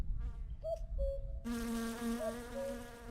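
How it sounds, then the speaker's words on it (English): Mosquitoes whine in the Finnish countryside of the video game My Summer Car: close, thin buzzing tones that come in short wavering bursts, then settle into a steady, layered drone as more insects join. "Hopefully get bitten by more mosquitoes"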